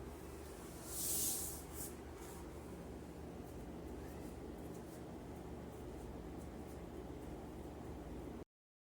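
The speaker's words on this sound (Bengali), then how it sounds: "আলু পটলটা ভেজে নিচ্ছি" Potato and pointed gourd frying in a pan for a special home-cooked meal, giving a steady, low sizzle and hiss that holds evenly throughout with no talk over it.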